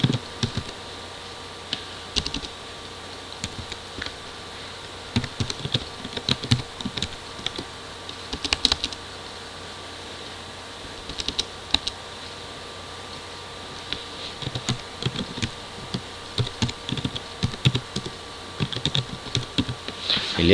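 Quiet typing on a computer keyboard while entering a new name for an elliptical mirror frame part, with irregular bursts of soft key clicks and short pauses scattered throughout.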